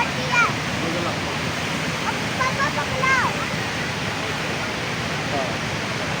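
Floodwater rushes through Bhimber nala near Bhimber in AJK after rain, making a steady, loud broadband roar throughout, with faint voices or chirps barely audible above it.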